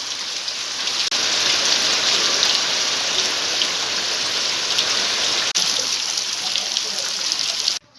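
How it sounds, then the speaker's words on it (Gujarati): Heavy rain pours down on a flooded farmyard in a loud, dense, unbroken hiss that runs steadily for several seconds before cutting off. "આજે અમારે જોરદાર વરસાદ"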